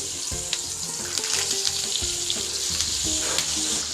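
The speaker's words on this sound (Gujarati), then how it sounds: "તો આપણે આ રીતના પતિકા તેલમાં એડ કરી દઈશું" Gram flour and coriander snack patties slipped into hot oil for deep-frying, a close, dense bubbling sizzle that holds steady for a few seconds with faint clinks.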